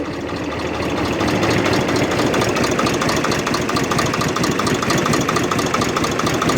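Tractor engine running steadily after its speedometer cable was loosened, a continuous close, loud mechanical drone with a fine rapid rhythm that holds unchanged throughout.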